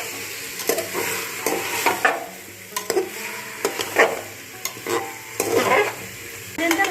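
Mutton pieces coated in black pepper powder sautéed for a Kolkata-style stew, with a steady sizzle broken by repeated, close scraping strokes of a spatula and clatter against the pan. No one speaks.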